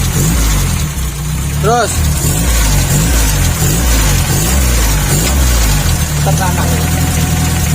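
Mitsubishi Canter truck fitted with a fake turbo, its engine rumbling loud and close and revving with a rising whistle, while men call out instructions over it.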